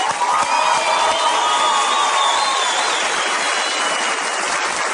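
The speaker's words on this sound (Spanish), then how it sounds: "Vamos a brindar un fuerte aplauso a papá Dios, bien fuerte, bien fuerte." At a live comedy show, a large audience bursts into loud, sustained applause and cheering, with whoops and whistles riding over a thick wash of clapping that stays at full strength throughout.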